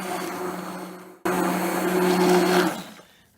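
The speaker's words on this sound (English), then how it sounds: "I find the easiest way is with this fancy immersion blender." An immersion blender whirs steadily through eggs and sour cream, with one short cut-out and then a sustained, loud, close motor drone that fades away at the end.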